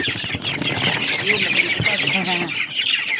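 Young chickens clucking and peeping at close range amid bursts of wing flapping as the growing chicks start to fly, with a voice speaking over the commotion.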